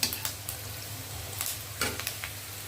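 Noodles fry in oil with browned onions under a continuous close sizzle, and uneven scraping stir strokes of a utensil against the pan punctuate the frying.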